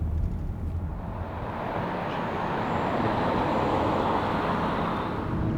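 A Mazda MX-30 electric car cruising on a motorway at around 130 km/h, with a steady, broadband road and wind roar filling the cabin continuously and no talk.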